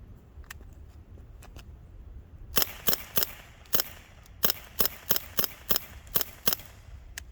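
An air rifle fitted with a modified Umarex StrikeForce magazine fires a rapid series of about a dozen sharp, close cracks with short uneven gaps between shots, alone and without talk.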